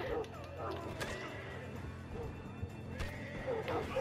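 A horse in a video game neighs with a shrill whinny, mixed with hoof clip-clops and a crash amid game noise, fairly quiet overall.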